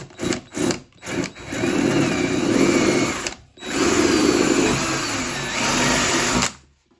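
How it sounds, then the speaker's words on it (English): A power drill whirs loudly in several bursts, short stutters first, then two long sustained runs as it bores holes through a wooden model railway baseboard, stopping abruptly. "So we'll just drill these now."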